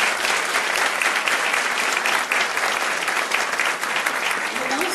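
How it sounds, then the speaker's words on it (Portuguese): An audience claps steadily for a community choir's conductor and founder at a senior center project launch, dense and sustained applause filling the whole stretch without pause. "Palmas para a Rosa"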